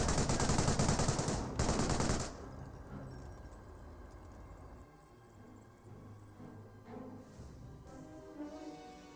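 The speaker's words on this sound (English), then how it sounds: "MMG carrier getting some good damage there onto this Panzergrenadier." An MMG carrier's machine gun fires in Company of Heroes, a loud rapid burst for the first two seconds, then the battle quiets to faint distant rumbles and a few scattered light impacts.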